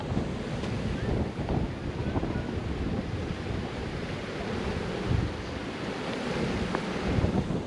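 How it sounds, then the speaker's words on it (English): Constant roaring rush of falling water at a waterfall in Texas, broadband and steady, with wind buffeting the microphone throughout. "Can you hear the roaring of the water?"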